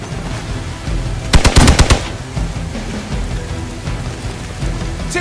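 Gunfire from the video game Marvel Midnight Suns: a quick burst of about five loud, sharp shots fired in rapid succession, set against a steady low hum of game ambience.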